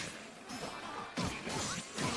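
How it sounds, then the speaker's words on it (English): Glass shatters on a grid break in the fighting game UNI2 at the Texas Showdown 2024 tournament, a sharp crash followed by a second burst of breaking impact, mixed with crowd and game noise. "You just heard the shattering of glass."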